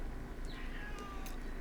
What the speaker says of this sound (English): My cat is screaming her little head off as if she's never been fed once in her life.